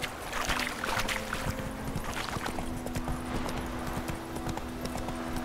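Hoofbeats of the horse Roach galloping in The Witcher 3: Wild Hunt, a fast, dense clip-clop rhythm that is loud and continuous throughout, alone without talk.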